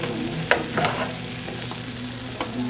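Sausage, peppers and onions frying in a pan, a soft, steady sizzle broken by a few sharp clicks and stirring scrapes, fairly faint and close with no voices.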